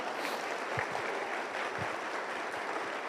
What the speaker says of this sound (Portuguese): aplauda ao Senhor por isso, glória!